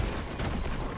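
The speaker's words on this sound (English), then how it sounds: "Stuff exploding." Explosions and bursts of gunfire-like blasts in a horror escape video game, dense and continuous, loud and close with rumbling low end throughout.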